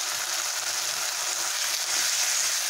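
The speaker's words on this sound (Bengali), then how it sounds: "এবারে আমি পেস্ট করে রাখা পেঁয়াজ বাটাটা দিয়ে দিলাম। 1 টিস্পুন আদা রসুন বাটা দিয়ে দিলাম।" Onion paste and ginger-garlic paste fry in a pan, giving a soft, even sizzling hiss that stays constant and close, with no voices.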